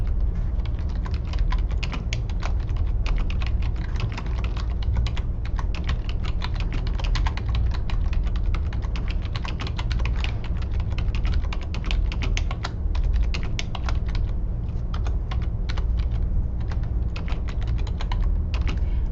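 Continuous typing on a computer keyboard, a fast steady stream of close, crisp key clicks with no voices heard.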